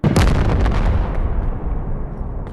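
A tank fires in the VR game Animal Company, giving one loud, close blast that booms at the start and then rumbles and fades over the following seconds, with no talking.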